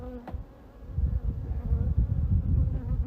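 Honey bees buzzing during a hive inspection at an apiary, a low, dense droning hum that swells and grows louder after the first second, with one brief sharper sound near the start and no talking.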